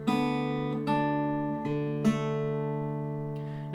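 Fingerstyle acoustic guitar plays the first measure of the folk tune Angeline the Baker, a few plucked notes and pinches ringing together into sustained tones, clear and close with no talking.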